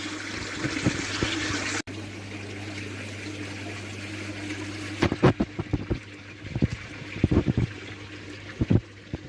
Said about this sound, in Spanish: Esa bomba lo que nos está haciendo, además de revolver el agua, es oxigenar.